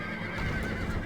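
Horses whinny in the medieval strategy game Stronghold Crusader, set against a busy battlefield din. A loud neigh rises over continuous noise, with hoof clatter mixed in.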